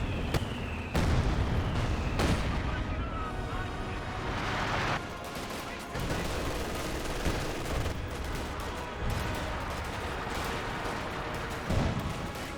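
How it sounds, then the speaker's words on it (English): A heavy mortar barrage in the real-time strategy game Company of Heroes 2: repeated loud booming impacts and blasts scattered irregularly over a rumbling battle backdrop, with several sharp crashes standing out. "And I think we got the heavy mortar barrage being brought in."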